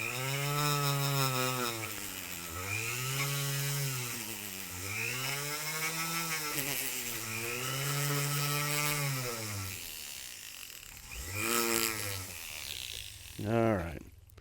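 A power tool spins a sandpaper-wrapped mandrel during work on a 1911-style pistol, giving a strong whirring whine that repeatedly sags and climbs back in pitch as it loads up, with a brief burst near the end.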